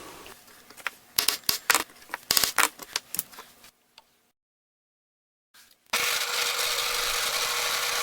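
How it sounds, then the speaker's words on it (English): A drill bit bores holes through aluminum for a guitar bridge build, sounding as a run of sharp, irregular bursts of cutting, a silent pause, then a steady loud whir to the end. "This will guide the drill bit into the aluminum."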